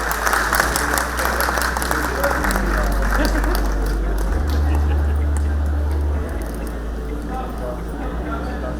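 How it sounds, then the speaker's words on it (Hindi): An audience applauds the chief minister at an Amar Ujala event, a sustained roar of clapping over a loud low hum from the venue's sound system, with speech mixed in before it thins toward the end. "एक बार फिर से जोरदार तालियां माननीय"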